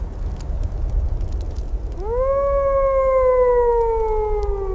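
An AI-generated barbarian queen lets out a long, loud howl that rises and then holds steady, alone over a low rumbling background.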